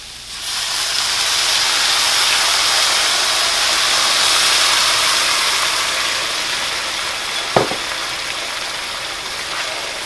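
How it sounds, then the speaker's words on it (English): Red wine poured into a hot pan with garlic, salt and pepper sizzles in a loud, steady hiss for several seconds, then a single short scrape of the pan bottom cuts through as the sizzle eases. "And this is when you start scraping the bottom of the pan to get all those brown bits."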